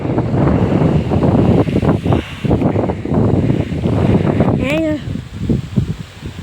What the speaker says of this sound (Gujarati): એટલો જ અહીંયા પવન પણ બહુ જ છે